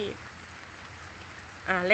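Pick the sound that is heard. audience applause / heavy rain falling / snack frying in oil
heavy rain falling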